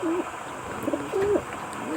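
Racing pigeons coo in a few soft, rolling calls at close range over a quiet outdoor background, with short pauses between the phrases.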